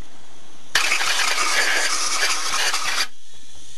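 A single loud, steady blast of compressed air hissing from a blow gun for about two seconds while cleaning engine cylinder-head valve parts, then cutting off abruptly into quiet.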